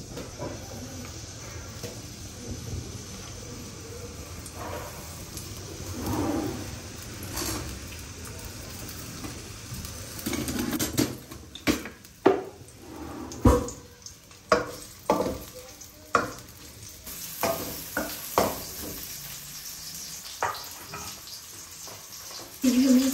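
Chopped onion sizzling and frying in hot oil in a home kitchen while cooking chole salan, with steady hiss and bursts of stirring and clatter growing busier partway through.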